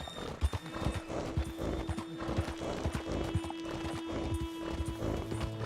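Horse hooves and whinnying in Red Dead Redemption 2, with steady clip-clopping hoofbeats throughout, a drawn-out neigh, and a humming background score, near and clear.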